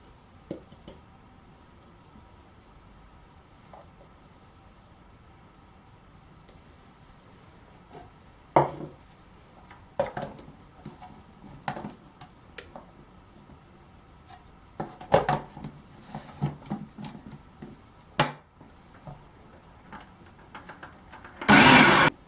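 Butter being worked into flour for Irish soda bread with a hand tool, giving sporadic scraping and tapping strokes against a bowl, sparse and fairly quiet at first, then busier, with a loud rough burst at the end.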